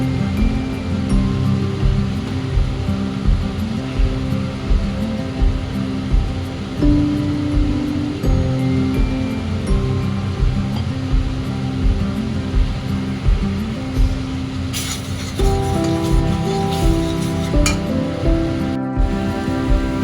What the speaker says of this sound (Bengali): চিমনিটার এতটাই সাউন্ড আছে